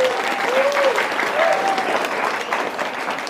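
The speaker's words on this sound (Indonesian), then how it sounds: "Tepuk tangan buat Lampung." Applause from an audience at a religious gathering in Lampung, Indonesia, a sustained, fairly loud wash of clapping with a few brief vocal tones and cheers riding over it.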